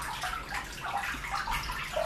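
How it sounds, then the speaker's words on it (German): Water from a small homemade garden fountain splashes and patters continuously, a soft, busy babbling with bright droplet notes, moderately quiet and close, with no talk. "Man hört auch das Wasser plätschern, das ist schön."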